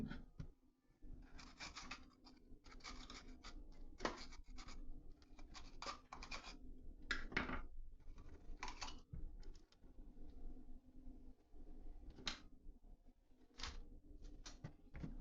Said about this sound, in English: I'm gonna cut my pepper.